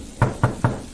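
Three sharp knocks rap on a door at night, evenly spaced and close, with no voices.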